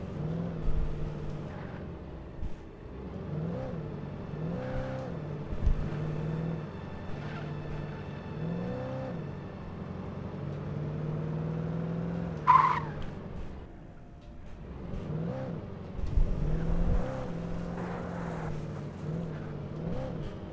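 A car engine drones steadily in Alan Wake Remastered, with rising and falling revs as the vehicle drives, a sharp tire-squeal or skid burst midway, and no talk over it.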